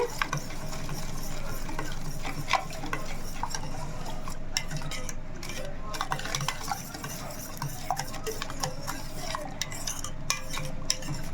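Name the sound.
stirring a mixture in a bowl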